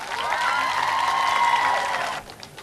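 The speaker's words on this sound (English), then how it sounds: "Let's give them all a round of applause." Audience applause at a park dedication ceremony, a steady round of clapping with a tonal ringing layer over it, fading sharply near the end.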